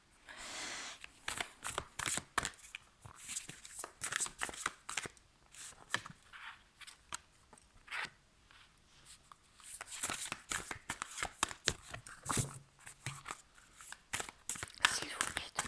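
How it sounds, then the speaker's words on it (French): Tarot cards being shuffled by hand, with repeated crisp riffling and slapping bursts in uneven rhythm, close and quiet, over several seconds of near-silence between bursts. "quand je bats les cartes, surtout que j'aime bien qu'elles tombent"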